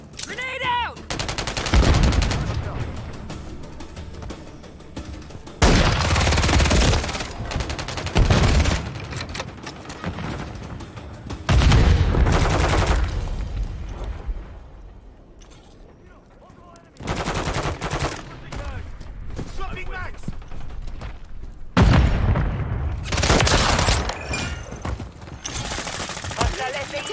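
Bursts of gunfire from Call of Duty Modern Warfare III multiplayer on an Afghan map, loud close volleys in several clusters with short quieter gaps, mixed with game voice callouts.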